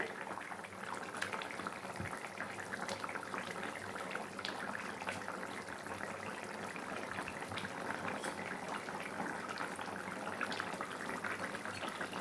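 Rohu fish curry with potato stems bubbling in a pot, a steady broadband simmer running continuously with faint irregular pops, moderately quiet and close, with no talking.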